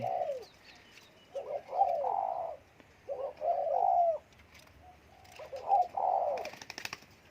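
A decoy dove coos in short, throaty phrases, two or three notes each, repeated with brief pauses, fairly close against a quiet outdoor background.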